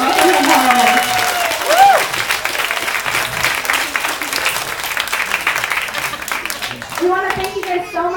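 Zoo crowd at a sea lion show on Armed Forces Day gives a big, sustained round of clapping, fairly loud and steady, with a voice speaking over it at the start and again near the end.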